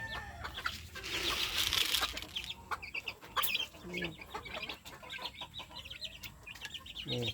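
Roosters clucking busily nearby, with a burst of noisy fluttering like wings flapping early on, amid a lively farmyard background.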